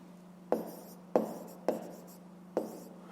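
Pencil writing and shading on paper, four distinct scratchy strokes at a slow, regular pace, each starting with a sharp attack and trailing off, close and quiet over a faint steady background hum.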